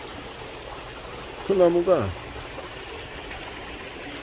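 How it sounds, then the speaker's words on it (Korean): Garden waterfall rushing loudly beside bonsai and pine trees, a steady broadband wash of falling water running throughout while someone speaks briefly in the middle. "지금 여기에서 아주 물소리가 폭포에서 요란하게 나고 있습니다"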